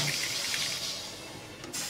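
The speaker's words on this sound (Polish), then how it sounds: "Leci jeszcze troszeczkę ciurka." Water trickles and hisses from a caravan's plumbing as the pipes are drained for winter, a steady broadband wash with no voices.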